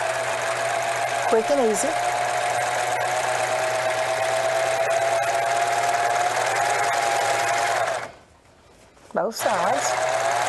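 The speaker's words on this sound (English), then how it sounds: "I'm set up for an overlock stitch. Okay. And we're serging through all layers." A serger running an overlock stitch through all layers of pleated, smocked fabric hums steadily for about eight seconds, stops briefly, then starts again, with voices talking over the machine.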